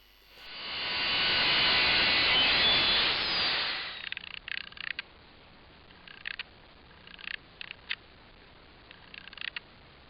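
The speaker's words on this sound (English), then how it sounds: "I'm just cutting some strips of some birch ply," A track saw rips strips from birch plywood in trial cuts, the loud steady whine of the blade running for about four seconds, then dropping away to faint scattered clicks and handling noises.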